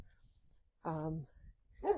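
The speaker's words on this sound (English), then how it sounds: "Dogs are chasing chickens." Farm dogs barking while chasing chickens, one harmonic bark-like yelp and then another a moment later, fairly close against a quiet background.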